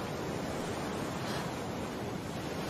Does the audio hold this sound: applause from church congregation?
no